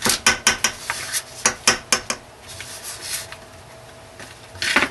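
Sharp clinks and scrapes of a utensil stirring an oatmeal, honey and oat extract soap mixture in a container, a quick run of knocks against the sides, then softer rubbing and a final flurry.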